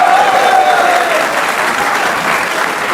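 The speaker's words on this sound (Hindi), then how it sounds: "आला कारकर्दगी पे शादाब के लिए भी तालियां होनी चाहिए" Sustained loud clapping from a crowd honouring Shadab after an India–Pakistan cricket match, an even, dense roar of hands lasting about three seconds.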